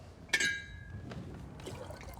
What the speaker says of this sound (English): Now pour the tea back into the pot.